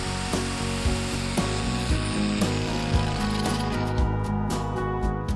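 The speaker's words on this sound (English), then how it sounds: "I try to cut this as straight as I possibly can using a jigsaw" A jigsaw cutting 15 mm plywood gives a loud, continuous buzzing whine with a rapid chattering edge that holds steady throughout, with small rises in intensity as the blade works.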